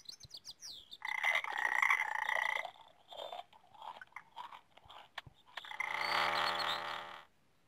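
A Paleobatrachus, a prehistoric frog, croaks in two long, loud, buzzy bursts with softer, scattered chirps between them. No one speaks.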